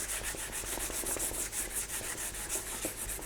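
Hand sanding across primer on a car body to smooth pinholes and imperfections, a close, rhythmic scratchy rubbing with quick regular back-and-forth strokes, heard alone.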